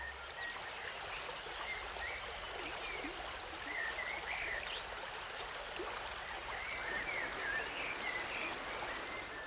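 A clear forest stream in spring flows with a steady, even rush of water, joined by faint high chirps from small creatures nearby, with no voices.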